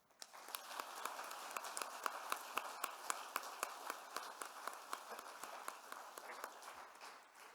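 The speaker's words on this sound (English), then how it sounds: "give a last round of applause for this remarkable team" Applause from a commencement audience at a student council address, a steady wash of many hands with sharp individual claps standing out, moderately loud and continuous without talk.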